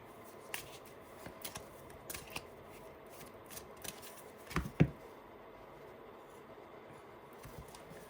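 Tarot cards are shuffled in a quiet room, soft irregular riffling and flicking with a brief louder snap of cards midway and no talking.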